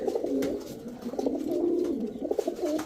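Silver pigeons coo close by in a loft, giving repeated soft, rolling calls that overlap in a continuous murmur with no voices over them.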